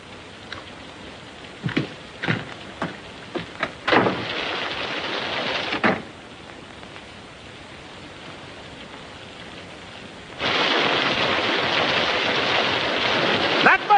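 Storm noise: sharp, irregular bursts and rumbling cracks of thunder in the first six seconds, a quieter lull, then a steady loud wash of rain-like hiss that holds to the end.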